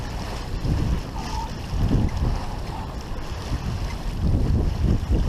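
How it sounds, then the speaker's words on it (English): Wind sweeps across Lake Huron aboard a sailboat under a reduced genoa: a continuous, gusty rumble buffets the microphone, with water washing along the hull and no voices. "there's just going to be wind out here"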